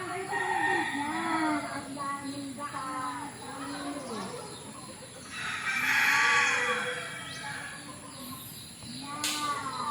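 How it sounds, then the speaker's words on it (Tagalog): Backyard chickens cluck repeatedly with rising and falling calls, fairly close, while a rooster crows in a longer burst partway through; a steady high electronic whine sits behind the flock. "Nagbigay lang tayo ng pagkain sa ating mga alagang manok."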